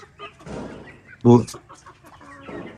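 A young chick of a black breed raised on an Uzbek poultry farm gives one short, loud cluck between stretches of someone talking nearby.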